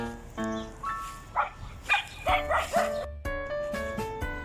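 Stray askal dogs playing in a company garden yip, whimper and give short bow-wow barks in quick uneven bursts, fairly close, with a steady background hum.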